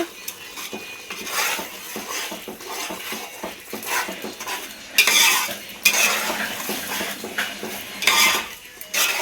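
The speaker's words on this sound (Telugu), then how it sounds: "ఇప్పుడు ఇవన్నీ మనం ఒకసారి కలుపుకుందామండి" A metal spoon stirs chili powder, turmeric and masalas into a biryani base in a pot, with repeated clanking and scraping against the metal under a soft frying sizzle, close and fairly loud, with no voices.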